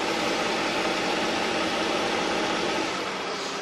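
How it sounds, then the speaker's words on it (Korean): A Hyundai luxury car engine idles steadily up close, a smooth continuous hum with a faint low rumble and no changes in pace. "엔진 소음 먼저 들려드리면은,"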